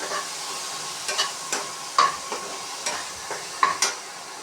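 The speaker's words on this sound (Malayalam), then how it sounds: "നന്നായി വഴറ്റി നെയ്യിൽ ഇങ്ങനെ വഴറ്റി നന്നായിട്ട് വരണം" Banana pieces sautéed in ghee in a pan, with a continuous gentle sizzle and a steady run of spoon scrapes and taps at irregular intervals, close by with no voices.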